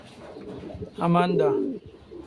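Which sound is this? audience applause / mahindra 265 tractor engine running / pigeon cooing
pigeon cooing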